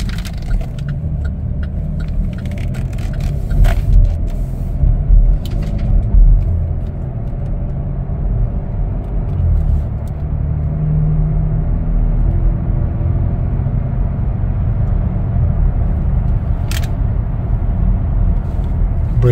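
Steady low engine and road rumble inside a 2021 Chevrolet Blazer AWD RS with a six-cylinder engine while driving, holding an even level throughout with a brief swell early on and faint light rattles above.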